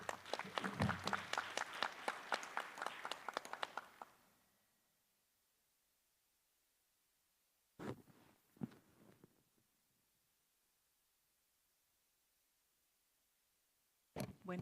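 Audience applause at a formal presentation on integrity management in Peru, a burst of rhythmic clapping for about four seconds that fades to silence, followed later by brief handling noises.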